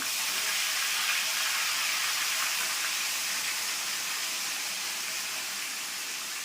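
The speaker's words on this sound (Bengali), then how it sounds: "এই দেখো ম্যারিনেটের মাংসটা আস্তে আস্তে দিয়ে দিচ্ছি।" Marinated meat lowered gradually into a hot pan, giving a loud, steady, even sizzle that holds without a break throughout, with no voices over it.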